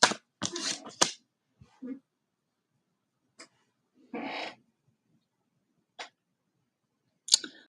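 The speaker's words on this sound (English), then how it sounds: "if anybody else reads cards and you just know you need another shuffle" Tarot cards being handled and shuffled, heard as brief dry riffles and snaps in scattered short bursts with quiet gaps between them, close and fairly soft.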